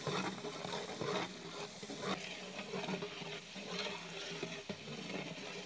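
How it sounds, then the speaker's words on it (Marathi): Chopped onion sautéing with mustard seeds, bay leaf and curry leaves in a pan for Nashik misal, a steady low sizzle with occasional stirring scrapes, close and continuous. "पण आता कांदा व्यवस्थित परतून घेऊ, हलका कलर लाल होतोपर्यंत"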